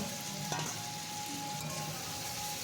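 Fried potato and pointed gourd pieces sauté in spiced oil in a pan, a steady soft sizzle running throughout with a faint scrape of stirring partway through.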